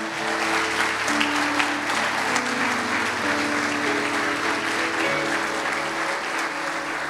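A church congregation applauds during a sermon, steady dense clapping over a sustained background of organ or keyboard chords, continuous throughout.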